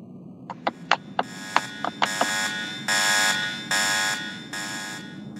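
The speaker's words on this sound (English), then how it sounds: "Do I hear an alarm going off?" An electronic alarm goes off in a Roblox obby game set in a pet shop: a run of sharp, rapid beeps first, then long, loud, evenly spaced buzzing tones repeating steadily, with no one talking.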